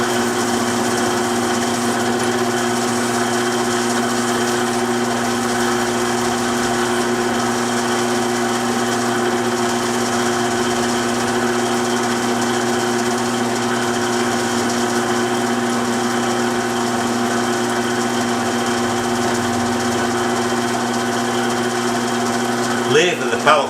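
A BM 250 lathe faces off the end of a tapped metal part, a steady droning hum with a high whine, running close and even throughout with a brief clatter at the very end.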